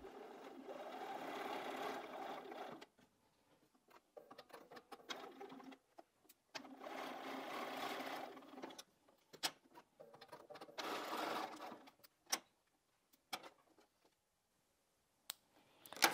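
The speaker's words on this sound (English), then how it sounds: "then I'll join the 2 rows together while we're at the sewing machine" A sewing machine stitches a 4-patch quilt block at quarter-inch seams, running in several short bursts of whirring with quiet gaps between them and a few soft clicks, close by, with no talking.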